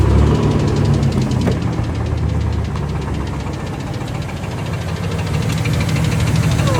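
A failing GMC Jimmy truck engine running with a heavy knock, a rapid rhythmic ticking clatter over a rough low throb, steady, close and loud throughout.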